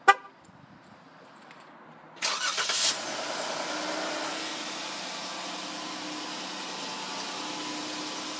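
A black 2014 Dodge Durango Limited answers a remote command start: a short horn chirp, then the engine cranks and catches, settling into a steady, moderately loud idle.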